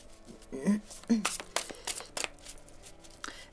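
Tarot cards being shuffled for a reading make quick riffling, flapping bursts up close, with a voice speaking over the shuffling.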